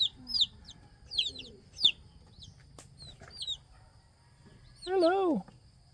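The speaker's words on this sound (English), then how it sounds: "the chicks are all in this little house now" Chicks peep in a small coop at a rural house in a Philippine province, with sharp high cheeps in short bursts, then a chicken gives a louder, warbling cluck nearby over quiet background noise.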